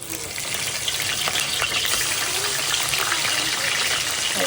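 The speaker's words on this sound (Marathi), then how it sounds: "तर आपण आता पहिले चिंबोऱ्यांना फोडणी देऊन घेऊया." Hot oil sizzles steadily and loudly as marinated freshwater crabs are tempered in a pan for a spicy Agri-style crab curry, a dense continuous frying hiss with faint stirring underneath.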